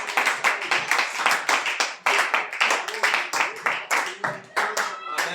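A church congregation claps in unison to acclaim Jesus, a brisk, even rhythm of loud hand claps close by, mixed with voices and shouts throughout.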